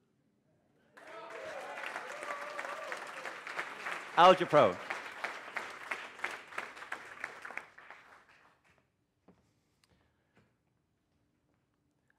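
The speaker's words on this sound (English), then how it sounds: "you'll probably get a big round of applause" Applause from a demo day audience at an aquaculture startup event in Bergen, a few seconds of fairly light clapping that starts abruptly, swells briefly and then dies away into silence, with a voice speaking partway through.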